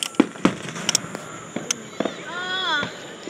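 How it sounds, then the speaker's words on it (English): Fourth of July fireworks burst in a string of sharp booms and crackles, several loud reports spaced across the clip, with a whistling rising tone near the end and a voice talking in the background. "they're like huge fireworks"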